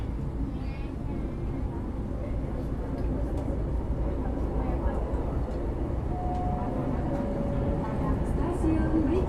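Ex-Tokyo Metro 6000 series commuter train running on the KAI Commuter line near Jakarta, a steady low rumbling roar of wheels and motors heard from inside the car, constant and fairly loud, with faint background voices.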